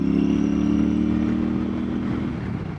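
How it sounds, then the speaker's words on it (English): Royal Enfield Super Meteor 650 air- and oil-cooled parallel twin with belt drive, ridden with a steady close engine drone and low hum, slowly easing off over a few seconds. "This bike in stock form, it's a 650 parallel twin, air-cooled, oil-cooled, single overhead cam, 4-valve per cylinder."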